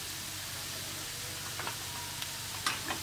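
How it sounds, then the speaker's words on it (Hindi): Finely chopped ginger and chili powder frying gently in a pan over very low heat, a faint, even sizzle with a few light stirring clicks near the end. "लगभग 2 मिनट बिल्कुल धीमी आंच पे भून लेंगे, ताकि अदरक भी भून जाए और मिर्च भी अच्छे से भून जाए"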